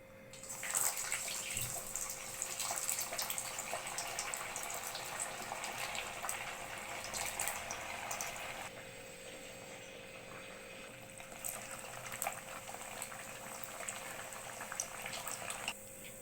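Sabudana vada sizzling in hot oil over a medium gas flame, a steady dense crackle and bubbling that holds throughout, loud and close with no one talking.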